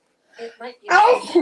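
One loud, close sneeze bursts out right after a couple of brief spoken words.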